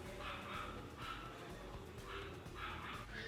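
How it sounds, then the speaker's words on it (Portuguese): A dog barks repeatedly in bursts, faint and distant beneath a steady noisy background, with yips and bow-wows recurring about every second. "De onde é esse cachorro do inferno, gente?"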